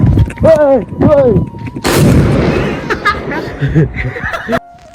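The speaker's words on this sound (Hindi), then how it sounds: "नहीं तो फटती भी नहीं है पटाखे।" A loud, sharp firecracker blast during Dhanteras festivities bursts in after a couple of short vocal sounds, leaving a noisy crackling tail with voices nearby.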